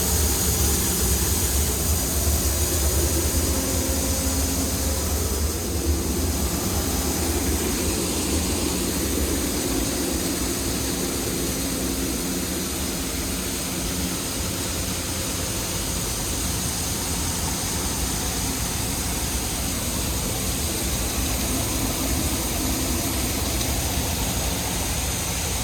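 A Case IH combine harvester works through corn on hilly ground around trees, giving a steady, loud broadband engine and machinery roar with a constant drone throughout and no talk.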